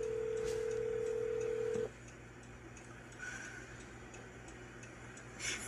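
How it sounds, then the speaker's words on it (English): Cell phone call tone: a steady single ringback tone for about two seconds, then cuts off, leaving faint background hiss and a couple of soft ticks. "so it's calling you, your cell phone"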